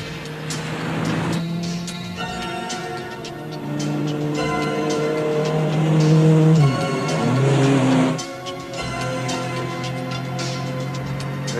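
A fast-driven car revs hard, its engine pitch climbing and dropping through gear changes, with a brief tire squeal, in a loud, continuous action-film sequence.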